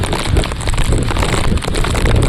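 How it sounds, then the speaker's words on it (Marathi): Monsoon wind and rain lash an open plateau, a dense, loud, continuous rush of gusts and falling rain with no break. "हवा किती जोरात आहे"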